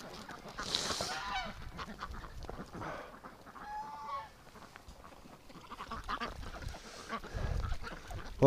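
Wintering ducks and geese honk and call near a swamp and creek, a few loud nasal honks and cackles breaking out in bursts with quieter gaps between them.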